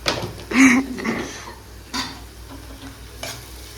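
Curry leaves sauté in a pan while a spoon stirs them, with a few distinct scraping strokes over a soft background sizzle, moderately close, no talk.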